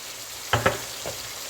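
A spoon stirs a spice mix of salt, red chilli powder and ground cumin in a frying pan, with two quick scrapes close together and a softer one after, over a low continuous sizzle.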